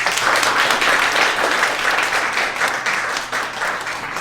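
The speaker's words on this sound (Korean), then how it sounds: "박수로 또 모시겠습니다" Audience applause at a Korean democracy forum, a steady wash of many hands clapping at full strength throughout, welcoming the next speaker onto the stage.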